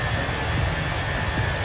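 Airbus A320 with CFM jet engines in a simulator game, a steady broadband engine roar and whine as the airliner begins taxiing, continuous and fairly loud with no talk over it.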